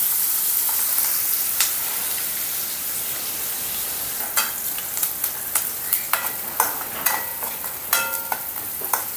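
Onion frying in a pan for an okra seed amti crackles with a continuous sizzle, and sharp pops and spatters grow denser in the second half, close and fairly loud with no voices.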